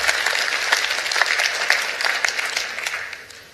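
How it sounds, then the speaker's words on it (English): Audience at a valedictory session and closing ceremony bursts into a short, dense round of clapping that stays strong for a few seconds before tapering off. "Please give a big round of applause to Professor Mansor, Professor Ramli, and Team OUM."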